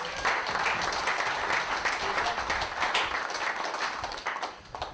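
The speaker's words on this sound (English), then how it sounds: "Can we give him another round of applause?" A crowd at a political gathering gives a full, sustained round of applause, dense and even throughout, tapering slightly at the end.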